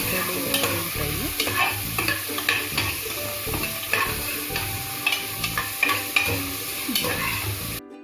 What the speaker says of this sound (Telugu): ఒక స్పూన్ ఉప్పు వేసుకుని ఫ్రై చేస్తే తొందరగా ఉల్లిపాయలు వేగుతాయి